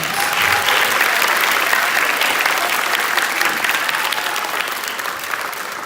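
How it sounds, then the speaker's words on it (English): A big round of applause from the audience at a middle school summer band camp concert, a dense continuous roar of clapping that stays loud and slowly eases off. "Can we get a big round of applause for the fancy geese?"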